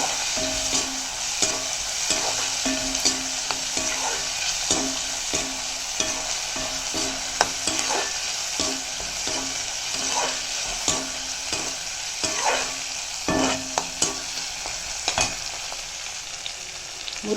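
Tomato and onions frying in a pan, a steady hiss of sizzling with repeated rhythmic scraping strokes of a spoon against the metal across the whole stretch, close and clear, without speech.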